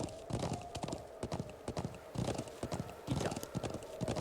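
Video game horse clip-clops along at a galloping pace, steady hoofbeats close and prominent with a brief whinny mixed in, no talking over it.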